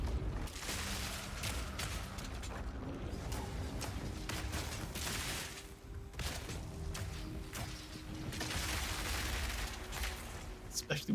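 Path of Exile 2 combat with rapid bursts of explosions and impacts rolling through in clustered volleys, heard over game effects and a voice talking.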